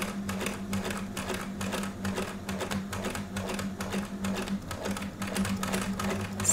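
Sewing machine fitted with a size 100 top stitch needle sewing a short stitch length, a fast, steady mechanical clatter with a low motor hum underneath, close up and continuous.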